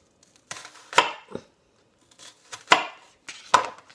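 A knife cuts through food in thin slices on a board, giving a handful of sharp, close chops spaced in irregular pairs with quiet gaps between them.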